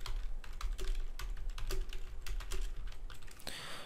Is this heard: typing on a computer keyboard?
yes